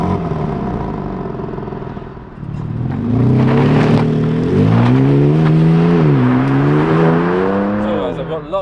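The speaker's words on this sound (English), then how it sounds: "First drive the M2." A BMW M2 G-series drives on UK roads, its engine droning low and then climbing through rising revs with steady shifts, loud and close from inside.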